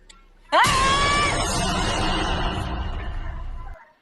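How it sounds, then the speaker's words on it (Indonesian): A sudden loud piercing scream from a kuntilanak ghost in a horror film bursts in after near silence, its shrill wavering cry sustained for about three seconds under a harsh noisy wash before cutting off. "Tiba-tiba sosok kuntilanak berteriak di telinganya."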